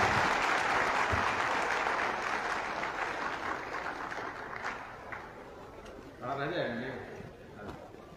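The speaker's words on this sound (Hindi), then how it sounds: "इस बिहार की धरती पर, इस बिहार के लाल के लिए एक बार जोरदार तालियां" Applause from a ceremony audience in Bihar, India: a dense burst of clapping that fills the opening seconds and fades, followed by a voice speaking near the end.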